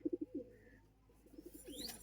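Young Madrasi pigeon chicks coo softly in a quick run of four low pulses, then a pause and a few more faint coos, close and quiet, with a thin chirp near the end.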